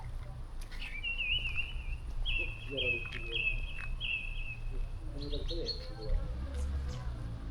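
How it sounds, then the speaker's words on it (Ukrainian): A nightingale or thrush sings clear, whistled phrases in repeated bursts, fairly close, over a quiet outdoor background in a park near Lviv with faint low rumble. "Соловей чи дрозд?"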